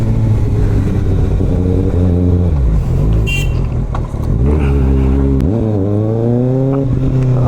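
A Kawasaki ZX-6R motorcycle engine warms up close by, a loud steady idle rumble with a few rising and falling revs throughout.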